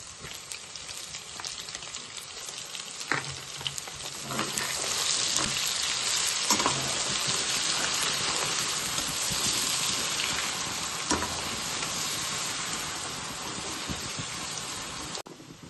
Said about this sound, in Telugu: ఇప్పుడు మనము అల్లం పేస్ట్ వేసుకుందాము